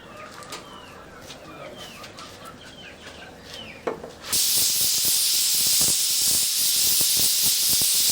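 Pressure cooker holding dal releases steam, a sudden loud, steady broadband hiss that starts partway through and continues nonstop, with bird chirps and rooster-like calls heard faintly in the background before it begins.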